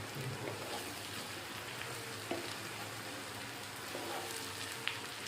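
Long-cut ivy gourd pieces fry in a pan for an Andhra-style masala curry, making a soft, continuous sizzle with a couple of faint utensil taps.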